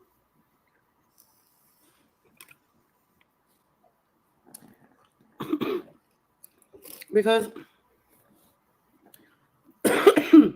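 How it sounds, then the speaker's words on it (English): Several separate coughs, close and sharp, spaced out over quiet pauses, the last ones harsher and louder. "the cough will not go away"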